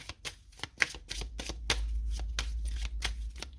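Astro Crush oracle cards are shuffled close by in quick papery riffles and flicks. A few softer taps come first, then a denser run of shuffling with a faint low hum beneath.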